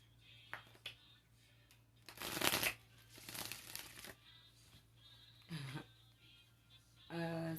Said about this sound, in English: I don't know why I did that because I hate shuffling that way.